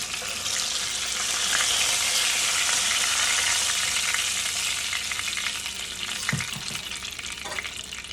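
A fish frying in oil, a loud, close, hissing sizzle that runs steadily, with a couple of knocks and scrapes toward the end and no talk.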